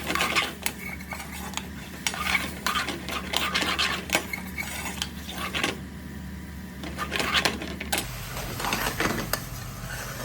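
Paneer that has already been fried is stirred with pre-cooked onions into a base gravy in a pan for restaurant-style paneer korai. A steady run of close, rhythmic utensil scrapes and clinks against the pan plays over a low background hum.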